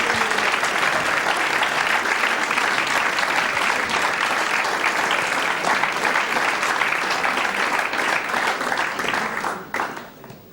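An audience applauds to welcome the presentation party at the 2008 WEPF ladies' pool final: dense, sustained clapping from a large crowd that holds steady for about ten seconds, then tapers off.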